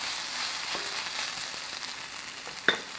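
Onions sizzling with balsamic vinegar in a cast iron skillet, a steady close frying hiss left undisturbed, with one sharp brief pop or tap near the end.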